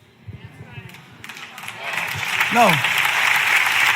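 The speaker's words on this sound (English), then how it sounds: "I don't want you to clap yet" A church congregation claps and cheers during a sermon, the applause swelling steadily from scattered claps into a sustained wash of crowd noise while a preacher's voice rises above it.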